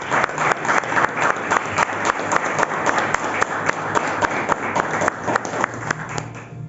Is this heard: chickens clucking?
no